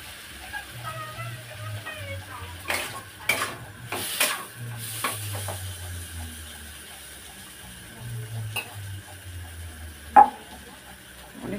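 Spiced potatoes being stirred and fried in oil in a home kitchen, a faint sizzle under quiet spatula scraping, with a few soft clinks and one sharper knock against the pan.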